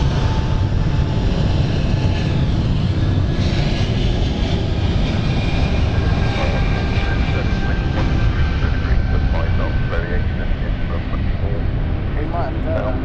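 Aircraft approaching runway 09 at London City Airport: a loud, continuous engine roar with a slowly shifting whine throughout, heard outdoors, with someone talking over it.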